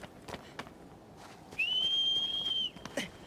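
A horse-calling whistle from the video game Shadow of the Colossus sounds after a few soft taps and rustles: one long, steady high-pitched tone lasting about a second, loud and clear, then quieter background again.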